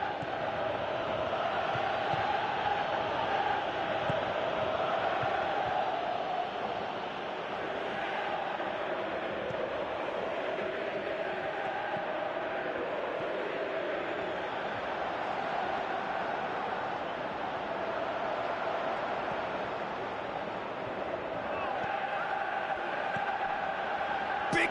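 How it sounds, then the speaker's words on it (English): A football crowd roars for a player to shoot, heard as a steady, distant wash of massed voices that stays fairly quiet and even throughout, without distinct single shouts. "Crowd calling for him to shoot"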